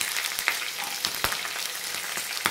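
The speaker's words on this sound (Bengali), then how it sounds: "মটরশুঁটিগুলো ফুটতে শুরু করেছে" Green beans and peas frying in a hot pan give a steady, close broadband sizzle, with scattered sharp crackles and pops throughout.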